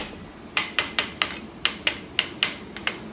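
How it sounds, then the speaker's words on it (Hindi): A plastic hammer taps a chair's side lever into place on a Green Soul Assassin gaming chair, about ten sharp close knocks in a fairly even rhythm with short pauses between. "ये प्लास्टिक का हैमर, ये यहाँ से साइड से ठोक करके"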